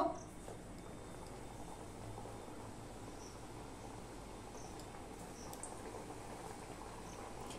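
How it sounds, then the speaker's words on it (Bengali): Khaja pastries fry in hot oil with a quiet, steady bubbling crackle that holds throughout, with no talking. "এবার এগুলো আমি ভেজে নেব।"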